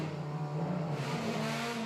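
A Subaru rally car stuck fast in a deep ditch at the Malaysian rally revs its engine, a continuous strained drone rising in pitch and then holding high.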